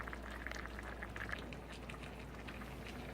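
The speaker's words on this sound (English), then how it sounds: "you just want to make sure it's just slightly bubbling, but not overflowing the lid" Cajun chicken and rice simmering on low in a lidded pot, a soft, continuous bubbling with a faint steady hum underneath, quiet and close, with no voices.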